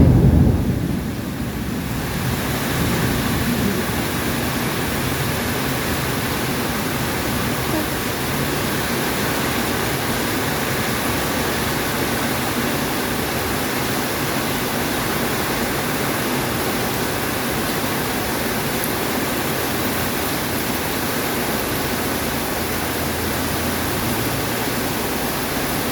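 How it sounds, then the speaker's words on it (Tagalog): A heavy downpour with thunder roars outside a closed restaurant, a loud, continuous wash of rain with a deeper rumble swelling at the start before settling into steady pounding. "Grabe ang ulan."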